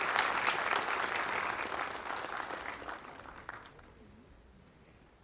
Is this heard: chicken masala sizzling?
no